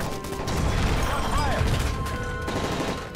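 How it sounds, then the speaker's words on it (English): Dense gunfire rattles through an aircraft cabin during a hijacking in Call of Duty: Modern Warfare 3, with loud overlapping shots and crashing impacts throughout under chaotic shouting. "That's gunfire!"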